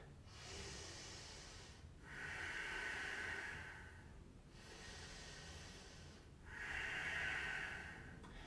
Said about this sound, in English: Breathe, arms wide. Breath is strong, fluid.